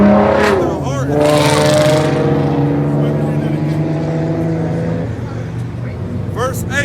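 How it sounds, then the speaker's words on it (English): A loud car roars past nearby, a rising then fading engine drone with harmonic whine that builds and trails off over several seconds. "Because apparently the louder the car, the better."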